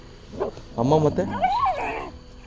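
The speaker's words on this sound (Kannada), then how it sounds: "ಮಾತನಾಡುವ ನಾಯಿ ಮರಿಗಳು ಇವು" Puppies whimper and yip up close, with drawn-out rising and falling whines alongside shorter yelps. A person talks to them in between.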